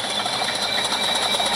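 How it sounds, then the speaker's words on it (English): A loud diesel engine from a Thomas and Friends cartoon drones steadily and evenly through the whole short stretch, with a harsh, hissing mechanical hum and no pauses. "Boy, that's a loud engine. It could use a muffler."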